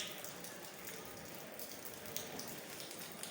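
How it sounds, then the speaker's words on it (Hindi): Steady rain falling since morning onto a wet residential lane, a soft continuous patter of drops hitting the ground, fairly faint and even throughout with no voices. "सुबह से ही हो रही है ये बारिश।"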